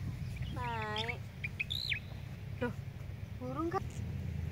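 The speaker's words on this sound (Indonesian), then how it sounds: "Tuh, burung kak." Several birds calling outdoors at the Kemuning tea plantation on a mountainside: a run of stacked, whistled chirps, then a rising two-note call and a later series of short chirps, all over a steady low background hum.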